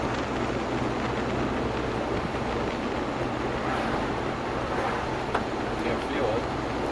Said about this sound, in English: It's pretty windy even here.